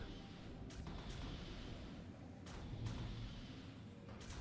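Muffled booms and rumbling from nuclear missile explosions in a Stellaris space battle, a few soft thuds rising from a steady low roar with no talk.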